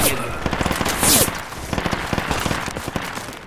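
Machine gun fire in the military shooter game Project Reality: rapid rattling bursts of shots, moderately loud, running throughout with a brighter blast early on.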